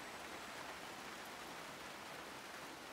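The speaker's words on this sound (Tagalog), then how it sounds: "Kasi palaging umuulan dito eh." Steady rain hisses evenly throughout, a dense wash of falling drops with no voices or other sounds.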